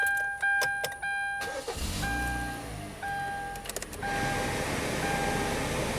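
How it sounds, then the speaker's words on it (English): Inside a 2013 Kia Forte, chimes and button clicks give way to an engine starting and the cabin fan ramping up to a steady, loud whooshing airflow. "Turn your fan all the way on to make sure it's not making weird noises."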